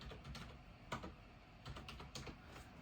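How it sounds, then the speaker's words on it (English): Typing on a computer keyboard: a few quiet, clustered clicks of keys pressed in short bursts, close by, with no talking. "I have to type."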